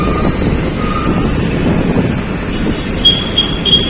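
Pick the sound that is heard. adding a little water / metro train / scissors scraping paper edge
metro train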